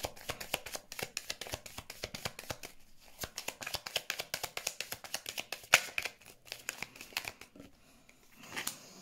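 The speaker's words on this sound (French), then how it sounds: "Allez, on va prendre peut-être une dernière carte." Tarot cards shuffled by hand in a steady run of quick crisp riffles and slaps, close and fairly quiet, ending with a looser rustle as a card is drawn.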